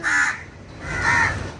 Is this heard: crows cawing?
yes